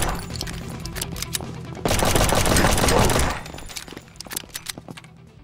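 Rapid automatic weapon fire in a zombie defense shooter game, a loud sustained burst of about a second and a half amid scattered single shots and impacts, with quieter sporadic shots before and after.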